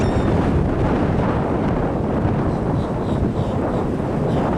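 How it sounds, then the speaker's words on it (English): Strong wind gusts outdoors around a small South Carolina tree, a loud, continuous rumbling roar that buffets the microphone with little let-up. "Now the tree is being shook a little bit by the wind"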